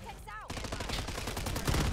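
RAM 9 submachine gun firing in Modern Warfare 3, a rapid continuous automatic burst after a short lead-in, loud and close, with a voice talking over it.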